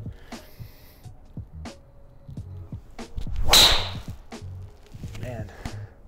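A Titleist TS3 driver strikes a golf ball on a range, a single loud, sharp metallic impact mid-clip, with faint background noise and a few lighter clicks before and after.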